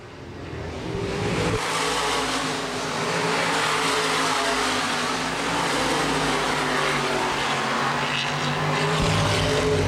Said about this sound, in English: 15 cars still running on the racetrack as they come to halfway.